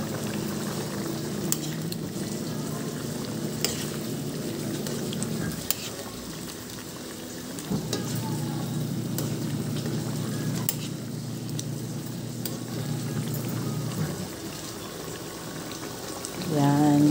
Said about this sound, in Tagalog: Ito yung ating menudo. Medyo pinapatuyuan ko lang siya ng kaunti.